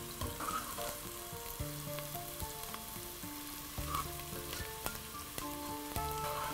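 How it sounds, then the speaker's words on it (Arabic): Vermicelli frying in a pan, a continuous crackling sizzle with faint stirring clicks, steady and close, no voices. "وابتدي احمر الشعرية بتاعتنا"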